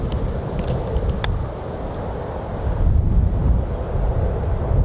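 Gusty wind on a golf course at the Las Vegas Strip buffets the microphone in a steady low rumble, swelling stronger in the second half, with no one speaking.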